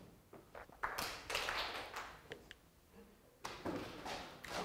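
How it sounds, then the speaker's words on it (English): A lecture audience claps hands and taps thighs in loose, uneven bursts of overlapping taps, fairly faint and roomy, fading and swelling twice. "See, clap hands or tap your thighs."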